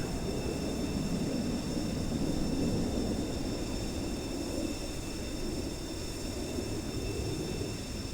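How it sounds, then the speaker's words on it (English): Aircraft engines in a naval battle video game, a steady, even roar with a high whine that holds throughout at moderate level, with no speech. "these engines are so loud whenever I click on the planes"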